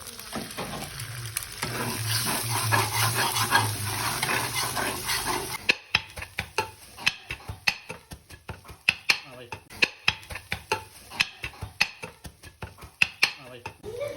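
Chicken kothu with eggs sizzles and is stirred on a hot griddle, then sharp rapid metal-on-metal chopping clacks in an uneven rhythm, close up, with occasional voices in the background.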